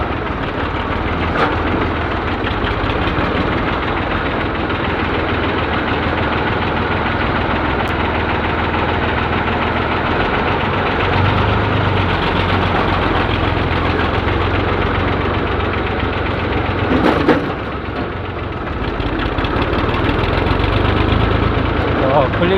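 A steady, loud tractor engine drones throughout with a low knocking rumble, heard from close by while riding along on the tractor.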